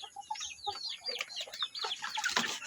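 Chickens, part Brahma and part native breed, cluck and chatter nearby in quick, overlapping bursts, with a few higher squawks toward the end.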